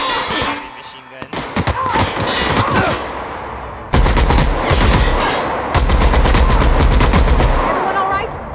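Loud, sustained machine gun fire in a video game, rapid bursts rattling almost continuously over heavy low thuds and explosion-like rumble, with a voice talking beneath the gunfire.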